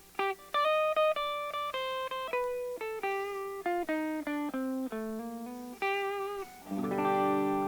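A clean guitar plays a quick ascending and descending melodic minor scale run of single notes, ending on a strummed chord that rings out.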